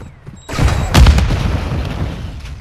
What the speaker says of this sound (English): Detonate the EMP.